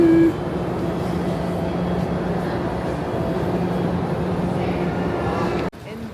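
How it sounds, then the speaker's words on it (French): São Paulo metro train running steadily, a dense continuous rumble and rolling hum throughout with a faint tone, ending in a sudden drop near the close; no speech is heard. "Le métro de São Paulo."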